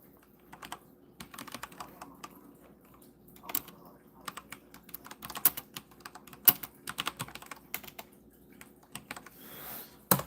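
Quick, uneven bursts of keystrokes on a computer keyboard clatter close by for about ten seconds, with short pauses between runs and a brief soft rustle near the end.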